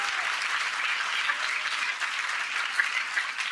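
A church congregation claps loudly and continuously during a pastor's sermon, a dense, even wash of many hands with no pauses.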